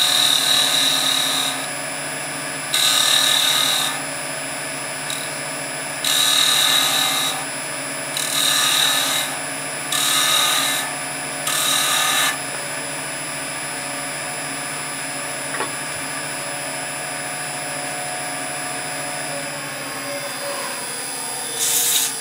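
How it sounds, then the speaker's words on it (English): A wooden peg spins on a woodturning lathe under a steady motor hum while a tool cuts five grooves near its base, giving repeated bright scraping bursts, close and loud, before the hum carries on alone. "So I'm going to cut 5 grooves in the bottom 1/4 inch of the peg"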